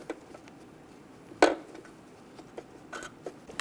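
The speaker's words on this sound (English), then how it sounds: "Install the wheel. Get the lug nuts started." Lug nuts being started by hand on a Toyota Tacoma wheel, a few light metallic clicks and one sharp clink, close and sparse in a quiet room.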